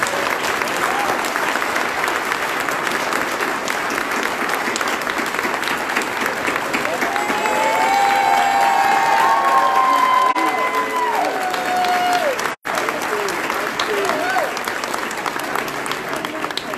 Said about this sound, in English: Can we give her a round of applause for the students who worked on this effort?